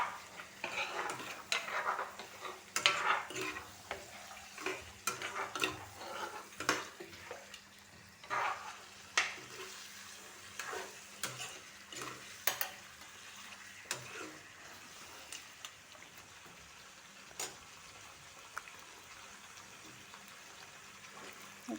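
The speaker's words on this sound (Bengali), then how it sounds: "আৰু ধুনীয়াকৈ ভাজি ল'ম মাংসখিনিতে" Goat meat is stir-fried with spices in a pan. A soft, close sizzle runs throughout, with scattered scraping and clinking of a utensil against the pan at irregular intervals.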